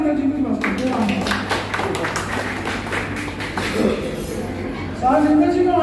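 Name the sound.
audience clapping for Narendra ji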